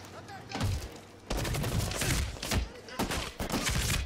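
Single-shot gunfire in the video game Medal of Honor Warfighter cracks in several sharp, close bursts separated by short pauses.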